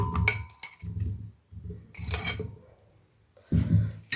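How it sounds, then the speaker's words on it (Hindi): Several soft clunks and rattles as cherries drop into a blender jar, in separate bursts with short quiet gaps between them. "अब मैं इसे ब्लेंडर में डालती हूँ।"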